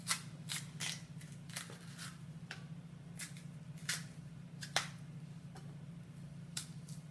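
A plantain is peeled back by hand, making faint, close, irregular snaps and tearing crackles over a low steady hum.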